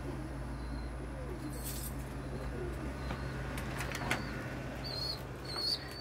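Soft bird coos and faint wing flaps over a steady low hum, with a couple of brief chirps near the end.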